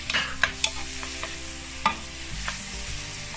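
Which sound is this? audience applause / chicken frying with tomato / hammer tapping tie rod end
chicken frying with tomato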